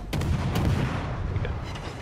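Destroyer guns firing at a battleship in World of Warships, with two or three sharp booming shots in quick succession, loud and close, trailing into rumble.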